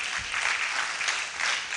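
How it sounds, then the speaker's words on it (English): Brief burst of audience applause at a university research awards event, dense clapping from a seated crowd that swells and fades within a couple of seconds. "with a hand of applause, please"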